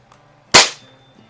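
A single sharp crack from a springer air rifle, either a budget Crosman 3100 or a premium Feinwerkbau 124, fired close by in one quick report against a quiet background.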